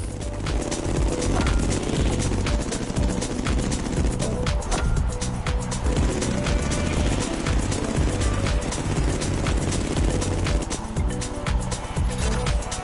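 An aircraft engine drones steadily and loudly from a plane flown in The Crew, a continuous close roar with a faint rhythmic throb and no pauses, filling the whole stretch.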